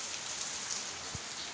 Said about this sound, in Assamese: কি কৰে আজি বৰষুণ কেনেকৈ দি আছে